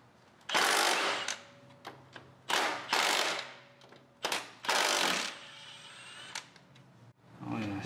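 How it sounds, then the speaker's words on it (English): A cordless impact wrench with a 14mm socket loosens an engine mount bolt on a 2016 Jeep Renegade, firing in several loud, hammering bursts of about a second each, separated by short pauses and small clicks. "Let's see if my cordless impact is strong enough."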